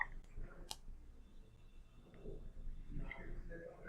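A single sharp mouse click lands early, briefly and close, against a quiet room-tone background with faint low rumble.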